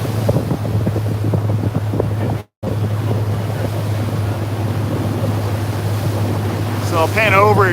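Heavy wind roars and buffets the microphone out on the water during a stand-up paddle distance race, with a steady low motor drone from a boat underneath. There is one brief dropout, and a faint voice comes through near the end.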